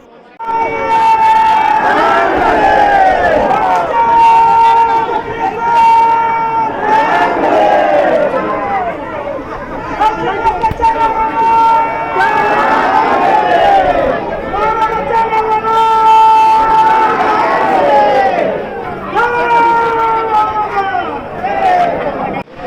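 A dense crowd of devotees at the Sant Balumama temple in Adamapur gives off a loud, continuous hubbub of many voices, with chanting-like tones rising and falling throughout.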